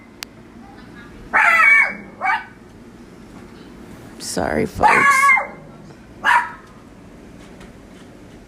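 A dog barks at trick-or-treaters outside, several loud, sharp barks coming in separate bursts with pauses between them, and a person speaks briefly between barks.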